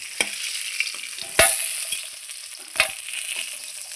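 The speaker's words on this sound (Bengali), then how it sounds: "ফোড়নে দিচ্ছি কালো জিরে আর চেরা কাঁচা লঙ্কা দিয়ে আমি ভালো করে নাড়চাড় করে নিচ্ছি।" Black cumin and slit green chillies hit hot oil in a pan before fish head and ash gourd go in, crackling steadily with a few sharp stirring clanks, close up.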